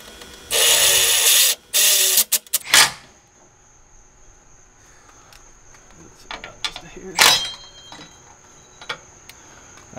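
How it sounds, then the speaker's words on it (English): A power driver with a 10mm socket drives self-tapping screws while installing shocks on a Toyota Tacoma, giving two sustained whirring bursts and several short zips, close and loud, with quiet ticking between. "you're going to take you a driver and a 10mm socket and start installing these screws"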